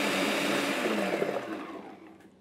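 A food processor whirs loudly while it chops an onion, holding for about two seconds before it spins down and fades out.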